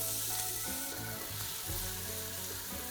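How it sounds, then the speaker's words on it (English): Diced onion frying in a pan for mussel marinara pasta, a dense steady sizzle with occasional stirring movements, close and continuous. "So first thing we're going to add is diced onion."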